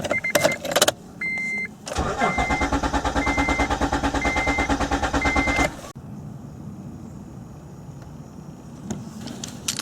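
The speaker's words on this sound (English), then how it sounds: "crank the car. It'll probably run for a few seconds, then die" An Acura car engine cranks with rapid rhythmic chugging, catches and runs loudly for a few seconds, then dies, leaving a quieter hum.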